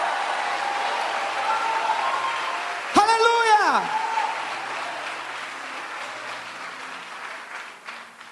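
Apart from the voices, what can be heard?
church congregation applauding and shouting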